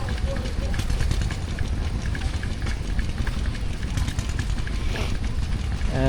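Low rumbling idle of a John Deere tractor engine at an outdoor steam and craft show, a steady heavy drone with a few clanks and wind noise, voices faintly audible in the background.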